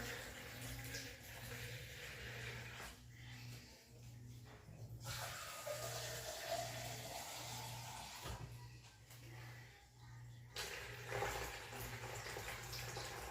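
Filtered tap water running from a faucet in a home kitchen while making sourdough, a steady hissing stream that pauses and resumes, with a low hum underneath.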